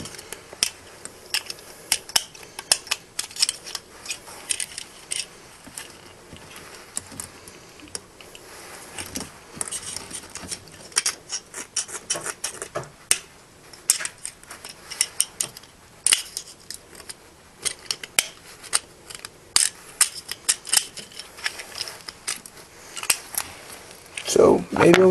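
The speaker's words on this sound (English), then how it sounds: "ruin a nice pair of scissors and cut some wire." Scissor blades strain against wire while a spring is cut from a Nerf Nitefinder battery mod, giving many scattered metallic snips, clicks and rattles, close and uneven, with a voice speaking now and then.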